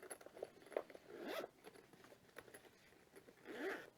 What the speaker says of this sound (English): Good zipper.